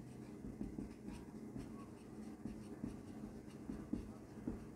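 A hand writes out a class 7 maths solution, with faint, steady pen strokes and taps on paper in a quiet room, lightly rhythmic throughout.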